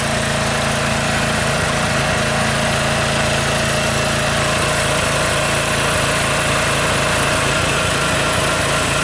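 An OKAY 2.5 kW inverter generator runs under a heater load, a loud steady engine drone with constant vibration and no break, nearby and alone without voices.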